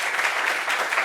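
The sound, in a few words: studio audience applause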